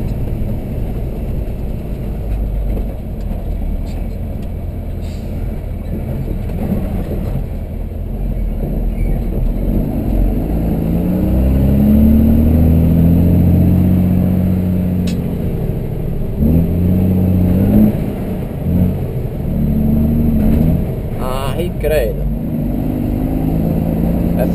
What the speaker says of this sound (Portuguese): Essa minha terceira marcha tá escapando, galera.